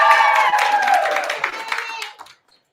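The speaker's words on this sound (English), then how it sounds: "A big cheer from 7th hour." Students from a seventh-hour class cheer and applaud in a school celebration for an intermediate teacher of the year, a loud burst of crowd cheering and clapping that fades out after about two seconds.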